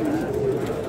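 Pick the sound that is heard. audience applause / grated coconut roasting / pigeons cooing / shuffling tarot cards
pigeons cooing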